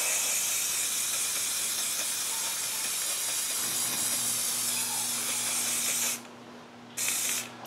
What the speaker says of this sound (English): It's the same, it's just spray paint again.